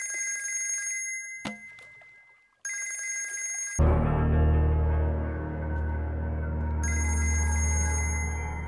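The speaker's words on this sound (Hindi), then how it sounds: "राशिद भाई कब से फोन कर रहे हैं?" A telephone bell rings in bursts, broken by a brief gap, then a low steady hum swells beneath the continuing ring.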